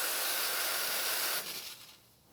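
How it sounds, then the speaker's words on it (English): A Profitec Pro 800 espresso machine's steam wand, fed by a 3.5 liter boiler, lets out a loud, close, continuous hiss that drops off sharply partway through and fades to a softer trailing whoosh. "I just press the steam button, and you can see I've got a lot of steam"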